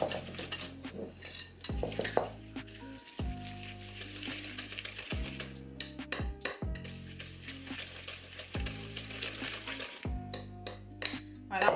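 Butter and sugar being mixed in a bowl, with steady, fast rattling and clinking of a utensil or whisk against the bowl that runs almost throughout, broken by a few short pauses.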